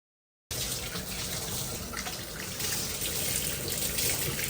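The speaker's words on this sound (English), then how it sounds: "I'm going to go ahead and rinse this out with some neutralizing shampoo" Running water from a tap steadily rinsing neutralizing shampoo out of bleached microlocs at home, a continuous close splashing hiss that starts abruptly after a brief silence.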